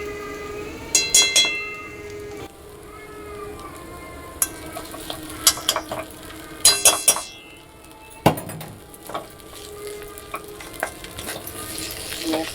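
A spoon stirs creamy pasta with tomato sauce in a pan, a string of scraping clinks and metallic knocks against the pan over a low sizzle, with bursts of louder clatter in between.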